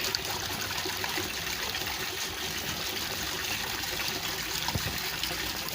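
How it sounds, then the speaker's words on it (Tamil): Rainwater pours from a 3/4 inch pipe in a continuous, even gush and trickle, close and fairly loud, with no talking. "ஒரு ஒரு ஒரு 3/4 இன்ச்சு பைப் போட்டிருக்கேன். எப்படி கொட்டுது பாருங்க."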